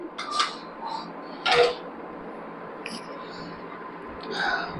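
Glass dinner plates and side plates from a dinner set being handled, giving a few sharp, bright clinks and taps spaced apart, with soft handling noise and a quiet voice in between.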